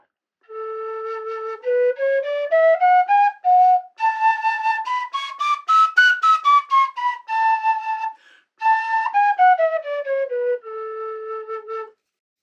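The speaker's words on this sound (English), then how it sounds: "if you compare it to, say, an A whistle, this is also an A whistle from Simon Styles." A tin whistle in A by Simon Styles plays a clear ascending scale of steady, pure notes up to high tones and back down again, alone and close with short pauses between phrases.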